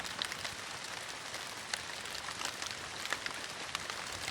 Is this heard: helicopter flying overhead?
no